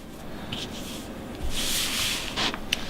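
A cloth rubs briskly over a wristwatch during cleaning, giving soft, close-up bursts of scratchy friction that grow denser and louder midway through, with no talking.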